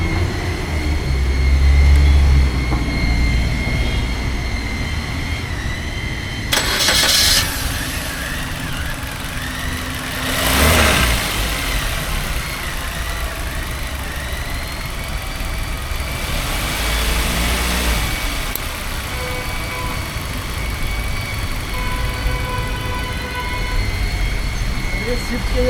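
A Maruti Suzuki Baleno, freshly serviced, starts and settles into a steady idle, its low engine hum continuing with brief louder bursts, while people talk nearby.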